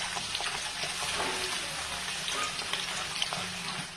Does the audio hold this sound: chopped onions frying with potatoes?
yes